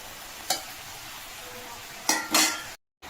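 Vegetables, radish and cauliflower with dried chilli paste, fry in an uncovered pan over a high flame, a steady soft sizzle broken by a few sharp scrapes of a spatula stirring, with a brief silence at the end.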